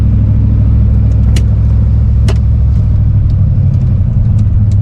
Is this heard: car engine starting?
yes